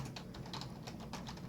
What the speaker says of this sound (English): even if I type in a bunch of random characters on the keyboard